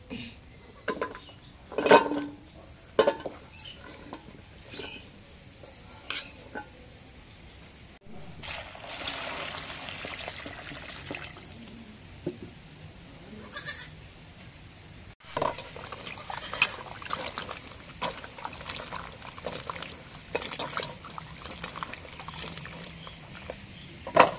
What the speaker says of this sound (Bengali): এখন লাউ কাটা হয়ে গেছে, লাউগুলো ধুয়ে নেই।